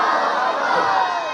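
A large crowd at a religious gathering shouts back a chant in unison, a loud, sustained roar of many voices held for over a second.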